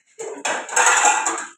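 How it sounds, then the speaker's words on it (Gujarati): Dishes and pots being scrubbed and knocked together in a home kitchen, a short close burst of metallic clattering and scraping with no talk. "દિશા વાસણ ઘસે છે"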